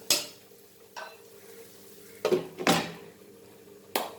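Broccoli stir-fried on a slow fire clatters as a utensil scrapes and knocks against the pan, a few sharp isolated stirring strokes with quiet gaps and a soft sizzle between them.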